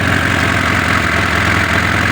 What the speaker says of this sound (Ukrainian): працює мотор.